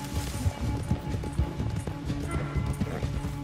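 Horse galloping in the video game Red Dead Redemption 2, a steady run of hoofbeats with thuds and clatter, fairly close and continuous, with faint talk mixed in.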